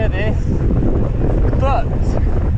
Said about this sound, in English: wind's picked up, so I don't know how well you're going to be able to hear this